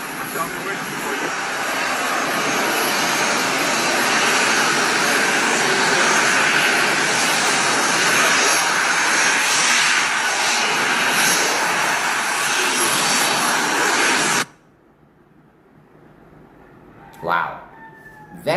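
A former private jet, now serving as an air ambulance, runs its engines in a loud, steady whine and roar that cuts off abruptly near the end, followed by a brief faint sound.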